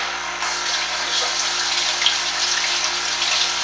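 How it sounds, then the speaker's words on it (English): Steady rush of running tap water in a home kitchen as hands are washed while baking a sweet potato pie, continuous and fairly close, with no talking. "Step away and wash my hands."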